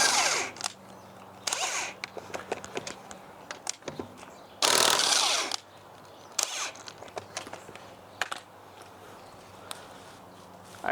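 Impact gun breaking loose corroded lug nuts on a Ford C-Max, heard as short hammering bursts between quieter clanks and handling noises, with one louder sustained rattle near the middle.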